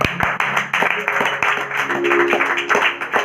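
Audience clapping at a devotional gathering, a continuous wash of hands at moderate volume with a faint voice or tone running beneath.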